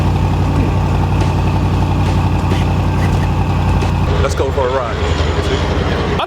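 A Mercedes-AMG luxury SUV engine idles after a cold start, a loud, steady low rumble that holds throughout, with a voice briefly audible near the end.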